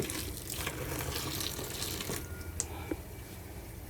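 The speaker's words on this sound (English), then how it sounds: "So what I'm going to do is add some more boiling water" Boiling water is poured onto seasoning in a home kitchen, a steady splashing gush that runs throughout at moderate loudness with a few small clinks.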